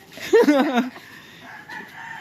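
A single short gamecock crow rings out close by at a gamefarm breeding area in Camalig, Albay, then fades into quiet background noise.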